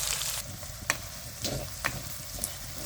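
Cumin and mustard seeds sizzle in hot oil while tempering for a Maharashtrian dal-onion dish, a steady close frying hiss broken by a few sharp spatter pops, with no talking.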